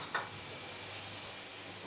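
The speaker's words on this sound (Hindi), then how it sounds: "ये टिक्की हमारी अच्छे से सेलो फ्राई हो चुकी है" Raw banana tikki shallow-frying on a low flame gives a faint, steady soft sizzle with a small clink near the start.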